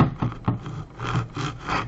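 A blade saws through a pine cone, giving close, scratchy rasping strokes in an uneven rhythm over a couple of seconds with no talk.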